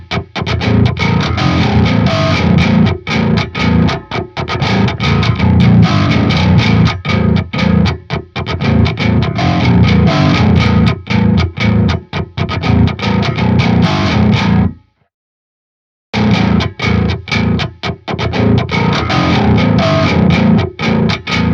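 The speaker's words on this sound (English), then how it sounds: "I changed the amps mode to modern, this way I will get more distortion." A heavily distorted bass guitar played through an amp set to modern mode chugs in tight, rhythmic djent-style riffs, loud and continuous apart from one brief full stop before the playing resumes.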